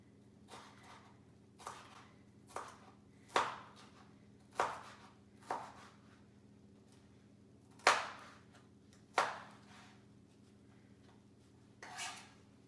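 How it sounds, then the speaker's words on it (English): A knife slices a red pepper into bite-sized pieces on a cutting board: about ten distinct chops, sharp and close, at an uneven, unhurried pace over a quiet background hum, with no talk. "I'm just going to slice it. I'm going to keep it nice and just bite-sized pieces"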